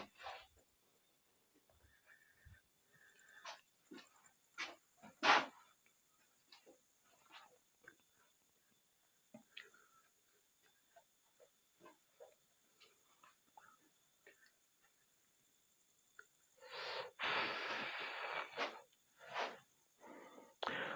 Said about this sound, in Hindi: बहुत दूर कोई गधा जो है ना, उसके बोलने की आवाज़ भी है